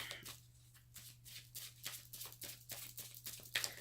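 Tarot cards are shuffled by hand before two more are drawn, giving a close, quiet series of riffling, papery bursts in a loose repeating rhythm, with no talking.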